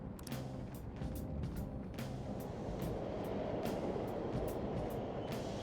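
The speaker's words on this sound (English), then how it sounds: "The trains are totally running." Subway trains running in a station in the video game Persona 5 Royal, heard as a faint, continuous low rumble with scattered metallic clicks and rattles, distant and steady, no talking.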